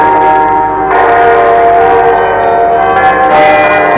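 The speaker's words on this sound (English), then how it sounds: "Next morning, all the bells of the city announced the sanctity of the day, Sunday." City church bells ringing on a Sunday morning in Glasgow, Scotland, a loud sustained peal of overlapping tones that swells again near the end, with no voices.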